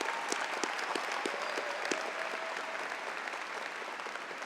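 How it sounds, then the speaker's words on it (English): Applause rings out from a large crowd at a university undergraduate commencement ceremony, a steady sustained clapping that continues evenly throughout, moderately distant and without talk over it. "Let's have one more round of applause."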